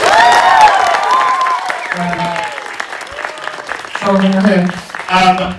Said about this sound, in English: Can we have another round of applause for the amazing band?